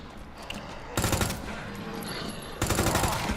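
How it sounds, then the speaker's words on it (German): Gunshots in the horror game Resident Evil 2, two loud, dense bursts of rapid fire, the second starting after a short pause, close and harsh over a low game ambience with no talk. "dir schieße ich erstmal in der Haxe"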